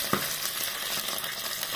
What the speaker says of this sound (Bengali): এই যে ঢালের ভেতরে মাছ ভাজা হচ্ছে